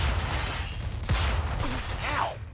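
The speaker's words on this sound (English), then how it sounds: "Stop shooting that fucking thing!" Gunfire from the Mafia 2 video game rattles through a dense, continuous din, with a sharp crack about a second in amid steady battle noise and music.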